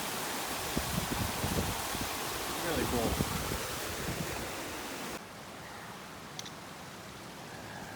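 Fire hose waterfalls on a Rockies day hike send a loud, steady broadband rush of falling water for about five seconds, then drop to a quieter distant roar; a voice speaks briefly over it.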